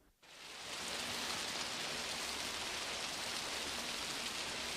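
Steady, even rain pours onto a garden, a dense hiss of raindrops that swells in within the first second and then holds loud and close with no voices.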